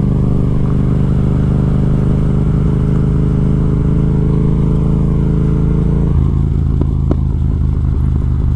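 A Yamaha MT-07 motorcycle riding through New York City, its engine a loud, constant drone under wind, dropping in pitch as the rider downshifts, with a few brief crackling pops toward the end.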